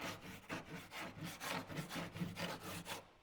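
A hand rasp files a wooden engine cowl in repeated rough back-and-forth strokes, close and steady, with glue in the wood clogging the rasp's teeth.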